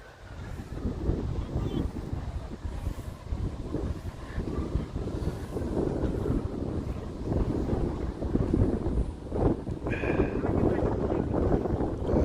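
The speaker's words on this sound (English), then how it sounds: "The wind's picking up." Wind rushing steadily across the microphone at an outdoor amateur cricket match in Canberra, Australia, a continuous broadband buffeting that swells and eases, with a commentator's voice faintly present under it.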